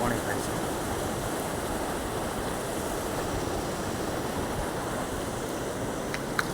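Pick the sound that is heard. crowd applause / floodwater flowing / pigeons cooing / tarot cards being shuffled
floodwater flowing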